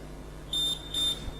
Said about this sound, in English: This buzzer is telling you that you are about to start the test.